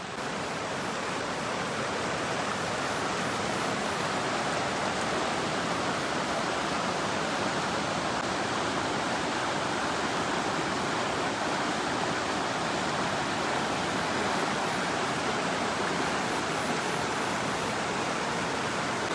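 Swollen river rushing through dense forest after 24 hours of nonstop monsoon rain, a steady, loud, broadband roar of flowing water with no breaks, close by and unaccompanied by voices.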